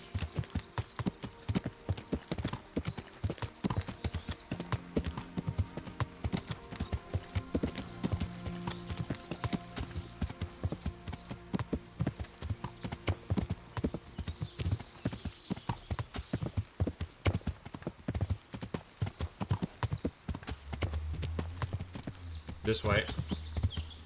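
A horse's hooves clip-clop in a steady, even rhythm along a road in the medieval game Kingdom Come Deliverance, close and continuous, with someone talking over the top and a brief whinny near the end.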